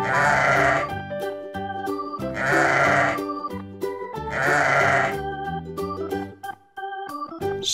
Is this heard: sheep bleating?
yes